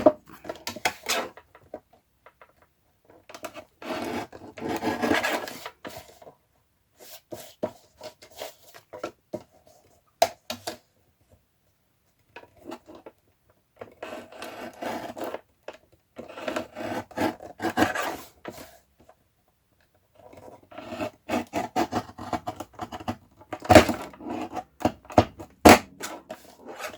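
Rough rasping of a file or saw on wood in repeated bursts, with pauses between strokes sessions, close and moderately loud.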